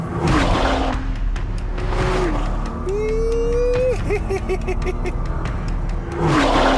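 A Nissan GT-R accelerates hard, its engine note climbing in pitch through a sustained rev, loud and close, with a rushing whoosh at the start and end.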